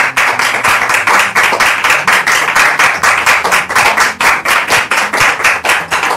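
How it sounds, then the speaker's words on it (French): An audience claps in quick, regular rhythmic unison, loud and close, sustained without pause as a guest is welcomed onto a stage. "Allez, public, on reçoit maintenant le frère Emmanuel sous vos applaudissements"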